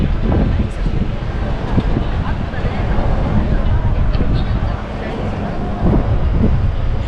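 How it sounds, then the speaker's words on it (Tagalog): Strong wind buffets the microphone outdoors in a busy Japanese street at evening, a constant loud rumble with gusty surges and a faint hubbub of people and traffic beneath. "sobrang hangin dito mga kabreski,"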